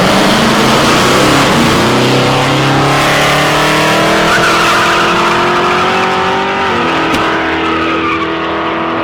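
Drag racing car at a street drags event doing a burnout with tire smoke: loud, sustained engine roar and screaming tire squeal close by, pitch climbing steadily over several seconds, then shifting near the end.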